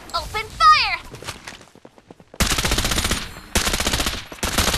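Rapid automatic gunfire from the battle-royale shooter Farlight 84, loud bursts of rattling shots in two long volleys after a brief spoken shout and a few sparse taps, with a short gap between them.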